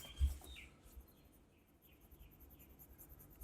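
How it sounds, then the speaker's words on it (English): Faint chirping birds outdoors in Thailand, a few thin high calls spaced through the stretch over a low background hum, with a brief soft knock near the start. "there's a lot of different types of birds, so you might hear them in the background."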